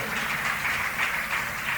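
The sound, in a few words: church congregation applause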